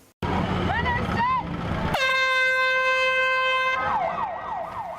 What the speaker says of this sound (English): That's our very own Alina Shapiro firing off the air horn at the Heritage Center's Foundation 5K run.